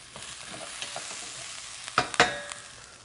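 Tomato paste stirred into braising meat and onions in a pot, with a soft low sizzle under a few scraping spoon strokes and two sharper clanks near the end, fairly quiet overall.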